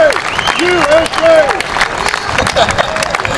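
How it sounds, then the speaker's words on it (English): Crowd at a gun-rights rally outside the Oregon State Capitol applauding and cheering, loud and close, with shouted voices rising over the clapping. "Let's applaud him."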